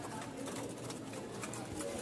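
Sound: pigeons cooing at a pigeon market

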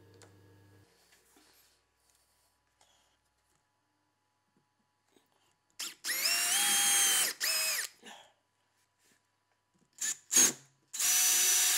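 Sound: driving wood screws into pine fence

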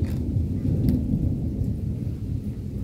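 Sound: thunder during rainstorm

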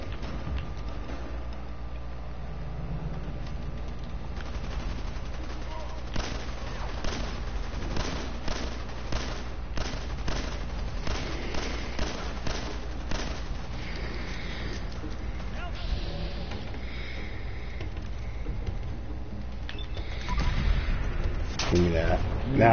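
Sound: gunfire and a headshot in the video game Fallout 4

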